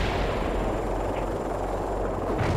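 Heavy artillery in the World in Conflict combat game fires in a continuous, dense rumble of distant booms, with a loud low roar filling the whole stretch.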